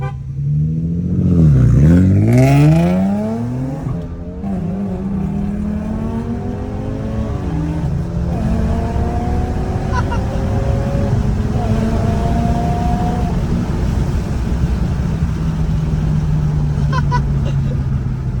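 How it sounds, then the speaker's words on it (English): A Nissan G35 with a swapped engine revs hard and pulls away, its engine note climbing through the gears, loud at first and then fading as it drives off into the distance. "So yeah, the car runs great now."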